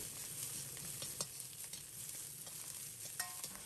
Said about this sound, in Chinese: 随后放入切好的洋葱丝，继续开中火，把洋葱煸炒出香味